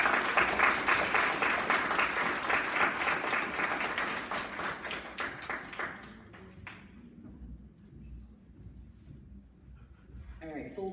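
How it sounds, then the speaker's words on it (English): Audience applause fills a conference hall at an Alzheimer's education event in Las Vegas, loud and dense for about six seconds, then fading to scattered claps and room murmur. "Let's give him another round of applause, please."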